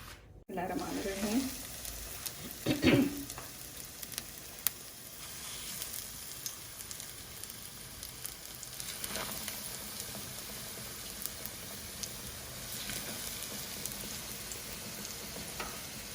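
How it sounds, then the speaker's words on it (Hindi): Potato cutlets (aloo tikki) fry in a little oil in a pan, a low, steady sizzle with a few louder clatters and stirring sounds near the start. "अब मैं इसको डाल रही हूँ अपने, ऑयल थोड़ा सा ले लें, हम इनको फ्राई करते हैं।"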